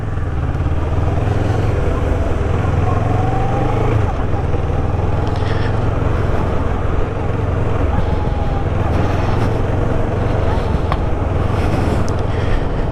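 CF Moto 650NK motorcycle engine on a test ride, a loud steady drone that rises and falls with the throttle, mixed with wind buffeting and occasional rider speech.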